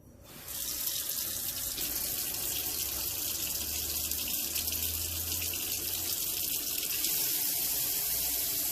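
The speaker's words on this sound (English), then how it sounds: "let me put the water in" Tap water pours steadily into a large cooking pot in a home kitchen, a loud, continuous splashing rush that starts abruptly and runs unbroken, with no talk over it.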